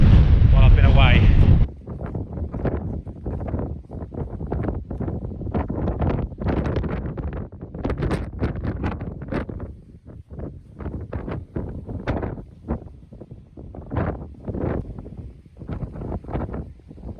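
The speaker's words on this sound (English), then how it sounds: "We've made it on top of Pew Tor, and it's very windy up here" High wind buffets the microphone on top of Pew Tor on Dartmoor, a loud roaring blast at first, then continuing gusty rumbles while someone talks over it.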